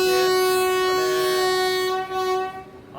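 The Rajkot-Coimbatore Express sounds a long, steady, loud horn at Valsad station, a single sustained blast with rich harmonics that fades near the end, no one speaking.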